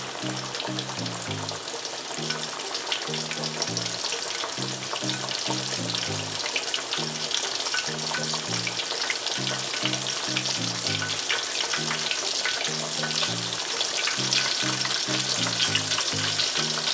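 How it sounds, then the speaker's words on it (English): Two pieces of Southern-style catfish frying in hot oil, giving a loud, dense, steady crackling sizzle, close and continuous, over a repeating low musical tone in the background. "I'm gonna fry 2 pieces at a time."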